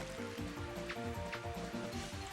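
Steady rain in the Mario Golf course Toad Highlands, a continuous close hiss of falling water with a pulsing musical tone underneath.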